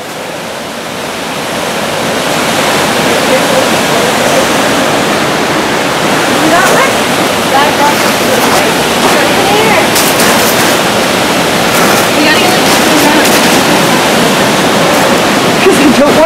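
River rushing through icy ruins, heard as a loud, steady roar of white water filling the whole clip, with a few faint sharp knocks on top and no clear talk.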